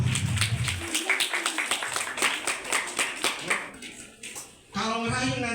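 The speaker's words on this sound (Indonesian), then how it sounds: "Tepuk tangan dulu dong untuk" Audience clapping during a public speaking session, a brisk run of many hands that fades after a few seconds, with a voice speaking at the start and again as the clapping dies away.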